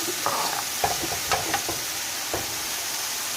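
Onions and peppers seasoned with salt and pepper frying in a pan that shifts around on the stove: a low sizzle broken by scattered scrapes, knocks and metal clinks, close and fairly quiet.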